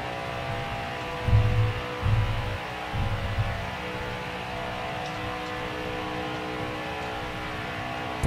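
Race truck engines at Talladega in the video game NASCAR Heat 4, a steady droning hum with several low throbbing surges early on, fairly faint and continuous.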